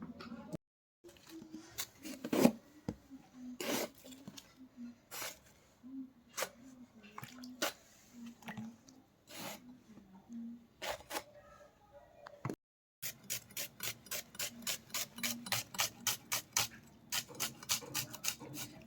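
Onions being sliced with a knife on a board in a home kitchen, a run of sharp repeated chopping taps that quickens into a steady fast rhythm near the end, close and moderately loud, with someone talking between cuts.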